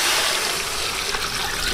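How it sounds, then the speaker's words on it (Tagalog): Water is poured into a cooking pan with sliced onion leaves to soften the dish, giving a steady, close splashing rush that lasts the whole moment with no talk. "Maglalagay na rin ako ng tubig para pampalambot natin."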